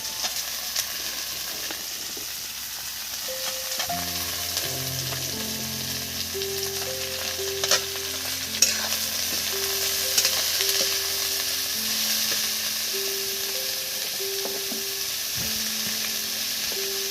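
Finely chopped potatoes fry in an oil-filled pan for a bitter gourd and potato dish, giving a steady close sizzle with occasional scraping stirs, while soft music plays in the background.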